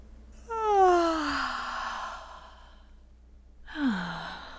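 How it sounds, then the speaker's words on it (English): A woman's loud, close yawn in an indie horror game, a long breathy sigh falling in pitch, then a shorter second yawn-like exhale after a brief quiet pause. "Why is she yawning so loud in my ears?"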